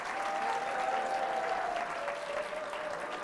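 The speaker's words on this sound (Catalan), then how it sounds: "Un aplaudiment per ells, si us plau." Applause from a studio audience for a team of secondary school students on a Catalan quiz show, a steady, dense wash of clapping filling the short stretch with no voices over it.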